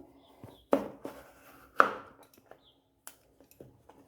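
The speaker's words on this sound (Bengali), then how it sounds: "দেখুন পেঁপেগুলো কেটে নিতে হবে" A knife chops washed papaya into small pieces on a board in a home kitchen. A few sharp, close chopping knocks come irregularly, then lighter taps trail off.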